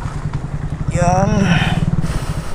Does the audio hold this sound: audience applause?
no